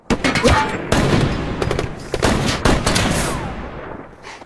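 Rapid bursts of gunfire crack and rattle over a loud, continuous rumble, with overlapping shots echoing as a heavy firefight in a scene from the film Jack Reacher.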